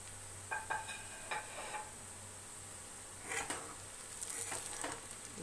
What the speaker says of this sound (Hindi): अब साथ ही हम इसमें ऐड कर देंगे ये अपने गरम खड़े मसाले और इनको भी थोड़ा भूनेंगे साथ ही।